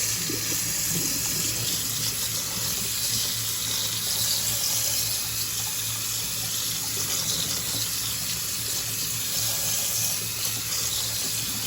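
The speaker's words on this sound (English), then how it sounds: "I'm just going to rinse these off real quick." Tap water runs steadily into a colander, rinsing freshly picked mulberries, a constant hissing stream of moderate loudness with no voices.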